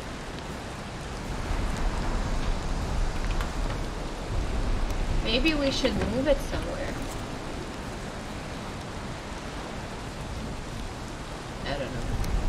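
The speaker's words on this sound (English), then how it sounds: "it's not burning because of the rain" Steady rain hiss falls in the video game Valheim, a dense, even wash running through the whole stretch, with people talking quietly over it.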